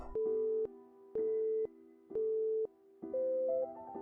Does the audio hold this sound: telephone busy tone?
yes